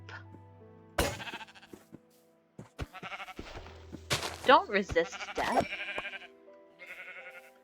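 Sheep bleat repeatedly in a blocky survival video game, several wavering calls up close mixed with game sound effects, while someone talks over them.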